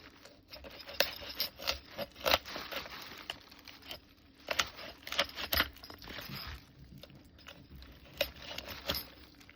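A knife cuts up a whole duck for cooking, producing a series of irregular clicks, taps and crunching cuts at close range, with no talking.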